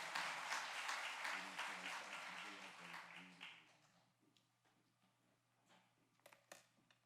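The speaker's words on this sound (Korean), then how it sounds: "우리 큰 박수 함성으로 환영하겠습니다" Applause in church welcoming a pastor at a monthly prayer meeting rises dense and fairly close at first, then thins out and fades to scattered claps, with a low steady hum underneath.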